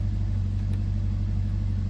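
A Ferrari California T idles with its engine running, a steady low hum and rumble that holds evenly throughout with no revving and no voices.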